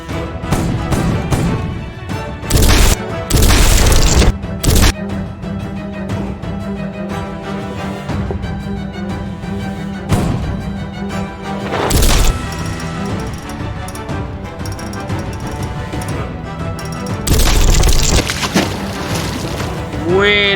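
Cannon fire from a pirate ship in a Lego animation booms out as several loud, separate blasts with crashing impacts, spaced between stretches of music and voices.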